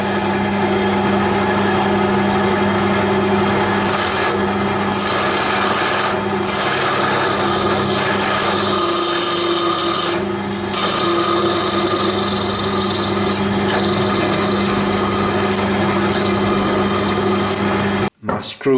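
Countersink drilled with a depth stop into the main body of a scale model shaper: a loud, continuous machine whir and grinding rub that holds for most of the stretch, then cuts off abruptly near the end.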